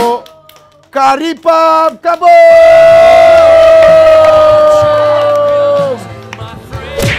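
A studio audience on a Malaysian TV variety show claps and cheers loudly for a competing team, with whoops and a long wavering tonal wail held over a dense crowd roar, and an announcer calling out at the start.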